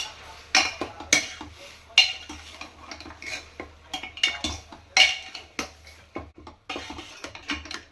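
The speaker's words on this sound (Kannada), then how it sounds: "ನಂತರ ಫ್ರೈ ಮಾಡ್ಕೊಳ್ಳಿ ನೀವು" Mutton frying with salt in a pot, stirred with a metal spoon: repeated scraping clinks and knocks against the pot over a low steady hum, close and fairly loud, with no talking.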